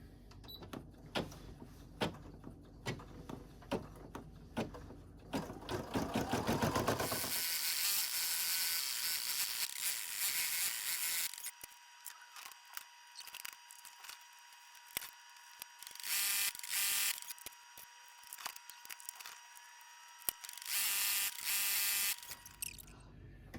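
A home embroidery machine with a cheap magnetic hoop stitches out a pattern, giving a fast, steady mechanical clatter of rapid needle strokes, with a louder whirring stretch midway before the stitching continues in quieter ticking bursts, no talking.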